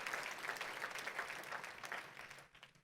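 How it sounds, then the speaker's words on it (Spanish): A church congregation applauds together, a dense but fairly quiet wash of clapping that holds steady and then drops off abruptly near the end. "Denle un fuerte aplauso al Rey de la Gloria conmigo"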